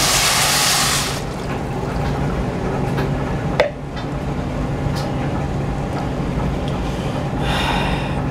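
Water poured into a pan of rice on the stove: a loud rushing pour at the start, then a steady sizzling, bubbling wash with a brief clink partway through, no talking.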